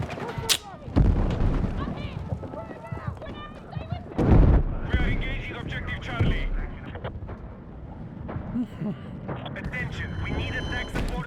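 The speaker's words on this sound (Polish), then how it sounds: "A się kamienica wali." A tenement building collapsing in the video game Battlefield 6: a heavy rumbling crash with a loud burst near the middle, set among gunfire and battle noise while people talk and laugh.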